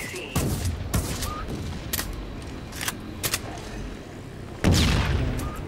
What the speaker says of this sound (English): Oh, that M1 grenade.